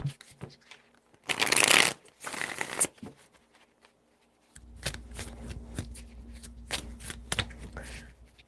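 A deck of cards riffled in quick crisp bursts, a loud zipping shuffle near the start followed by a softer one, then lighter taps and snaps from handling the cards, all close by.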